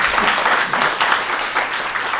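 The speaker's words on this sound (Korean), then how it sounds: "박수 다시 한번 부탁드리겠습니다" Audience applause at a civic democracy forum on youth political education in Paju, dense steady clapping filling the whole stretch, loud and close, with no speech over it.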